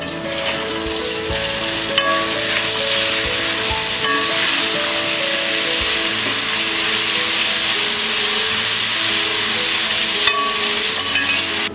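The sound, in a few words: grated raw mango frying on low flame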